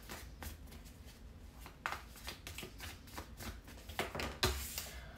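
Tarot cards are shuffled quietly in several soft, riffling bursts with brief pauses between them.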